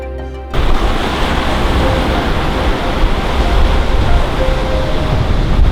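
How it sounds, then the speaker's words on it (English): Ocean surf breaks at the shore during a sunset shoot, a loud, steady roar of churning water after a brief quiet start, with no talking. "The hardest part is waiting for these waves to come through."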